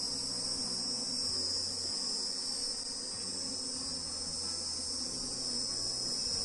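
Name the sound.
bees buzzing around a hive box rubbed with onion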